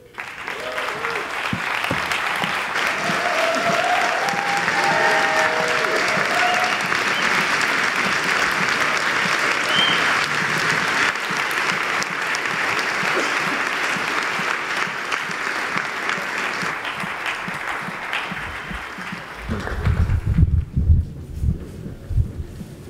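Sustained audience applause for speaker Noah Kagan at the Big Omaha 2013 conference, a steady dense clapping crowd filling the hall for about twenty seconds before tapering off into low rumbling handling noise.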